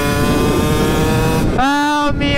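A Honda motorcycle engine, started after sitting unused for two months, idles with a steady loud drone, then briefly revs up with a rising whine before settling back, alone without talk.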